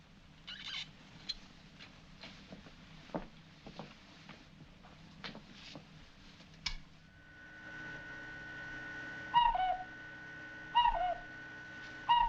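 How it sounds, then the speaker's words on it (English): A bird call from an old film soundtrack: a few short, clear calls sound at intervals over a faint steady background hum, with quiet scattered noises before them. "It's a bird."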